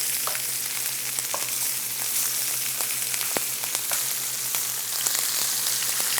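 Venison sizzles steadily in a hot pan, a continuous close frying hiss with small pops and crackles throughout.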